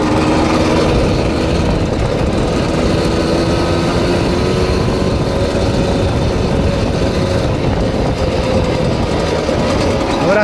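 A Czech Jawa 50-20 Colt moped with a 3.6-horsepower engine runs continuously while being ridden, a loud, steady buzzing drone with wind rush and rattling, the pitch creeping upward near the end.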